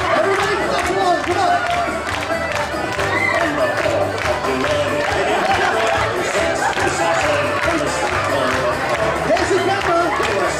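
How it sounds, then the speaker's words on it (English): A live audience at a comedy hypnotist show, staged as an Irish dancing championship, claps along to music in a loud, dense crowd with scattered shouts and chatter throughout. "Everybody clap along"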